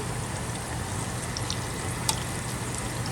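Plantains fry in hot oil with a steady, fairly soft sizzle, with a light clink as the pieces are turned.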